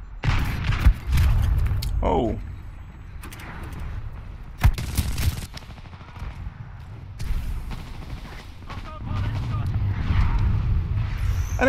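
Heavy Wingman pistol shots from Titanfall 2 gameplay, several booming reports spaced irregularly among other game explosions and mechanical clatter, with a voice talking over parts of it.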